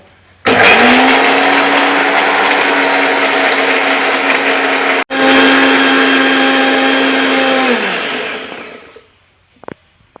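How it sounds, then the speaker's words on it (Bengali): A kitchen mixer grinder blends a spice paste of black peppercorns, garam masala and a little water, roaring loud and steady for about eight seconds with one brief break, then winding down to silence. "মিক্সারে পেস্ট করে নেব।"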